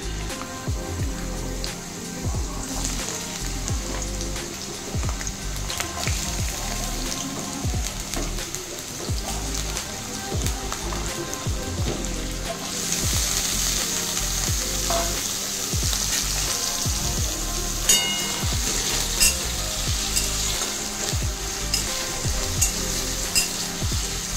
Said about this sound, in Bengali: তেলটা গরম হয়ে গেছে, এবার আমি আলুগুলোকে ছেড়ে দেব।